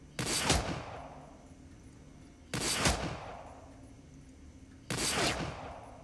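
Three heavy bursts of gunfire in Shadowrun: Dragonfall, each a loud, sharp crack with a short decaying tail, spaced evenly about two and a half seconds apart over a quiet background.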